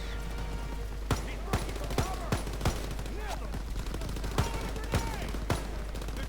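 Bolt-action rifle gunfire in the Call of Duty: WWII game, about a dozen sharp shots spaced irregularly over a busy bed of rain-like noise and battle ambience, with faint voices in the background.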